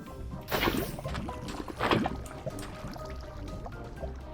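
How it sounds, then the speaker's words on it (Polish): Water poured out in Minecraft gives two gushing splashes followed by a softer trickling flow, close and clear. "I wylejmy wodę."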